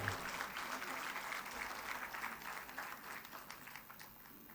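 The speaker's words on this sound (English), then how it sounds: "A huge round of applause, everyone." Audience applause at a memorial event in Kanpur, a dense, even wash of clapping from a large crowd that fades slightly toward the end, with faint voices underneath.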